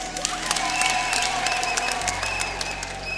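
An outdoor crowd at a church jubilee celebration in Moshi applauds a police band with dense, sustained clapping that holds steady throughout, a low hum underneath.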